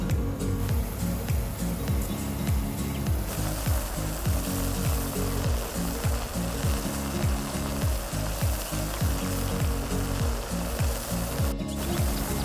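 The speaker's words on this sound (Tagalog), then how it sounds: "haluin lang po natin hanggang maging golden brown." Pork frying in a pan while being stirred until golden brown, a dense steady sizzle over a constant rhythmic mechanical hum, with occasional scrapes.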